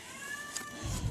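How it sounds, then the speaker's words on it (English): A cat meows briefly at close range, a short drawn-out tonal cry over steady background noise, with a low rumbling thump near the end. "Once again, cats are being stupid."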